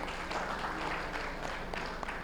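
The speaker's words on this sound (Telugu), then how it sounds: "మన పత్రిజీ గారి మన పరిణిత మేడంకి మనం ఒకసారి గట్టిగా క్లాప్స్ కొట్టుకుందాం." An audience at an indoor meeting in a hotel claps continuously, dense applause filling the whole stretch.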